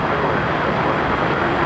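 An airplane lands on runway 24 right at Los Angeles International Airport (LAX), heard as a steady, broad, even roar that holds at constant loudness throughout, with no voices.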